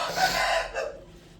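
A rooster crows once, close and loud, the call rising then trailing off over about a second amid faint background noise.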